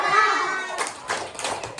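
Children in a classroom clapping a short 'tepuk love' pattern, a few quick sharp claps in an uneven rhythm, close and mixed with voices speaking.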